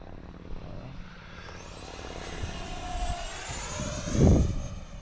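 A Freewing Zeus 90mm RC jet on a ducted-fan turbine passes overhead at an airfield, its whine rising and sweeping across as it closes in, ending in a brief loud rumble near the end.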